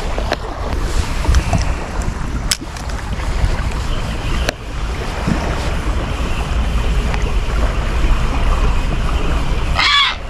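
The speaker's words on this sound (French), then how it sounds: "Je suis vraiment littéralement en train de me faire engueuler par le héron." A heron gives a short, harsh squawk near the end over steady wind buffeting and lapping water at a perch fishing spot, with a few faint clicks earlier on.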